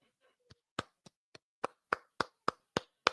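One person claps a run of about ten sharp, separate hand claps that start sparse and then settle into a steady, fairly quick rhythm, close and dry against silence.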